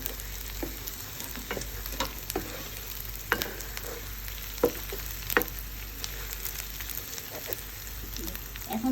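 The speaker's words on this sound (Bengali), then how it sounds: "ডিমগুলো দিয়ে একটু কষাবে।" Fried eggs are stirred into sizzling masala in a pan, giving a continuous crackling fry with sharp scraping stir strokes scattered throughout.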